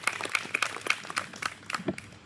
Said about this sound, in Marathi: तर त्यांच्यासाठी आपण एकदा जोरदार टाळ्या होऊन जाऊ द्या